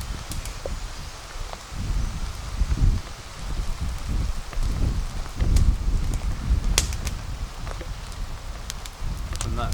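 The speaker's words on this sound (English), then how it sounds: "She's a blowy one today." Strong wind gusting at a military arctic tent base camp, with broadband rustling and buffeting surges rising and falling steadily throughout, loud and close with no voices.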